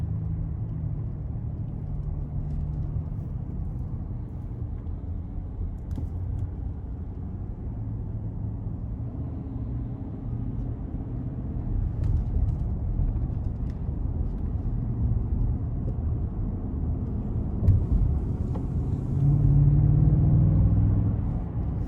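A 2021 Ford F-150 XLT pickup with the 5.0 V8 in sport mode pulls onto an interstate, a steady low engine rumble and road drone from inside the cab swelling louder toward the end as it accelerates.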